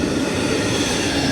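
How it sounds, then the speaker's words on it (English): A CSX freight train passes close by, a loud, continuous rumbling roar of rail cars with wheel noise and no speech. "there's the train!"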